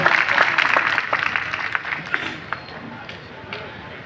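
Applause from a seated audience at a press club journalists' convention, a dense burst of clapping that starts strong and gradually thins out over about four seconds.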